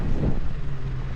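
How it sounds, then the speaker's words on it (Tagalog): Strong wind blowing outdoors in New Zealand, a steady low roaring rush buffeting the microphone throughout, loud and close with no voices. "Lakas ng hangin."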